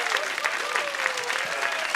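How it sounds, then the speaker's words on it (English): A home crowd at a baseball game applauds after a sacrifice fly, a steady wash of clapping from many hands, moderately close, with a voice talking faintly underneath. "To the approval of the home crowd."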